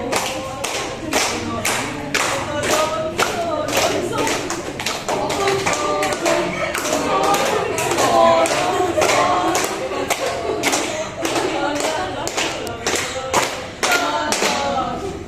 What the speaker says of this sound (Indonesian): Yang lain tepuk tangan.